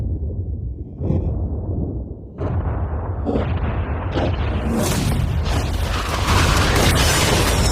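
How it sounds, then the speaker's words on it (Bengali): A yacht being blown up with explosives, a loud booming blast that builds into sustained rumbling roar and crackling debris noise over several seconds, with no talk. "উড়িয়ে দাও।"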